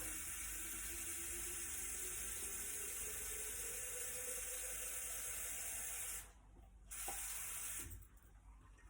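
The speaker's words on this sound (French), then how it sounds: "Je reprends de l'eau." Water running steadily from a tap into a Thermomix bowl for lentils, a continuous close hiss that briefly cuts out twice near the end.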